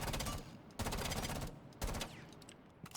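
Automatic gunfire from a weapon fitted with a muzzle brake in the Rainbow Six Siege video game, three rapid bursts of sharp, dense shots with brief gaps between them.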